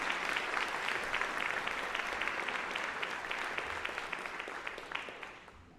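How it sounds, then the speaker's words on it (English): A crowd applauds with lively, scattered claps that slowly taper off in volume over several seconds. "Let's give our players a round of applause."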